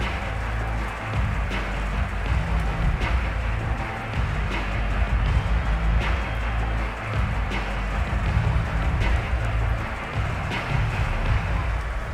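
Steady rain pours throughout a rainy 49ers versus Bengals football game in Madden 22, a dense, continuous wash of falling water with low rumbling underneath and no voices.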